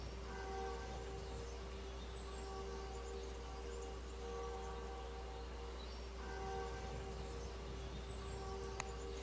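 Steady train rumble in the game 80 Days, set in London, with a low continuous drone and tonal hum holding evenly throughout, plus faint intermittent squeals and a sharp click near the end; no voices.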